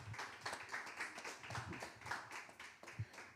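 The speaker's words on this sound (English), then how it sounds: "Please give a huge round of applause." Audience at a jazz and art book club event clapping for a bass player, faint and somewhat distant, with scattered, uneven hand claps and a few louder individual claps.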